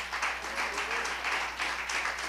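Church congregation clapping in praise during a Holy Spirit sermon, a steady wash of many hands over a constant low hum, with a faint voice or tone briefly threading through.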